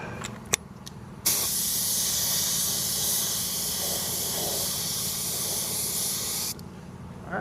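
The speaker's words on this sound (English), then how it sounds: "then we cover that with clear coat." Clear coat sprays from a spray gun onto a repaired BMW X5 wheel, a loud continuous hiss that starts abruptly and runs about five seconds before cutting off, with faint clicks before it.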